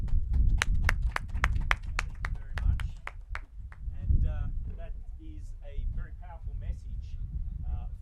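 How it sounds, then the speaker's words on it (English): An audience gives a short burst of scattered clapping for a panel of young speakers at an event, fading within a few seconds as talking takes over. "Let's all give them a round of applause"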